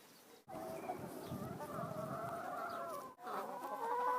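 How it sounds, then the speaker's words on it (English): Several hens clucking and chattering together almost without a break, close by, on organically farmed land. The chickens were rescued from a crowded free-range barn. "And we have the chickens here."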